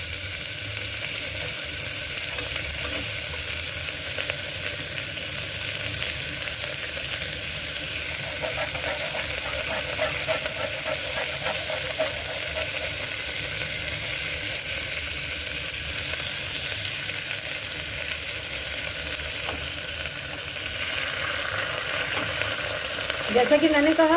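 Onions frying in a pan with spice powders and ginger-garlic paste for a Kashmiri green bean and onion gravy, a loud, steady sizzle that runs throughout, with occasional stirring and no talk.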